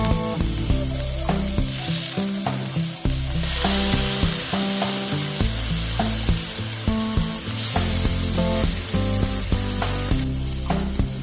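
Blackened catfish fries in a hot pan, a loud, continuous sizzle with crackling bursts and occasional stirring or scraping sounds over about eleven seconds.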